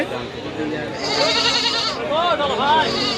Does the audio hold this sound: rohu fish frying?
no